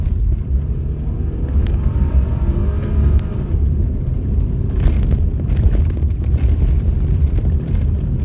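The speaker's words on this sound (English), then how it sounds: "I'm driving my daily driver Subaru," A stock 2007 Subaru with an automatic gearbox driven hard, its engine a loud, steady low rumble with road and wind noise throughout, no talk.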